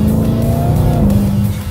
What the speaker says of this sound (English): the supercharger whine on these cars are crazy